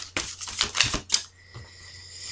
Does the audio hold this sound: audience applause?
no